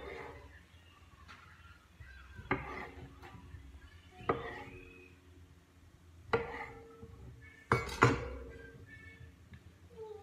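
A knife cuts a tomato in half on a board while preparing a full English breakfast, with a few sharp separate knocks spaced seconds apart against quiet kitchen background.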